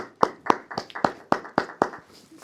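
A worship congregation claps hands in unison, about nine sharp, evenly spaced claps in quick rhythm, close and loud with no talking.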